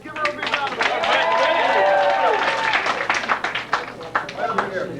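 An audience at a graduation party applauds for a volunteer magician named Liz, with steady clapping and crowd noise sustained across the moment and a few voices mixed in.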